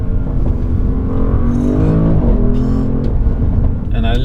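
A 2020 Porsche Cayenne Turbo Coupe on the move sends a loud, steady engine drone and road rumble through the cabin. Its pitch shifts slightly as it picks up speed.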